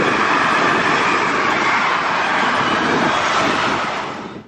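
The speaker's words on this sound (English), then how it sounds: "Not only trucks are on their way to Germany, also many trains full of goods." A freight train full of goods runs along a rail line beside a cycle route between Venlo and Horst-Sevenum in the Netherlands. A loud, continuous rumbling roar carries steadily throughout, then starts to fade at the end, with no talk.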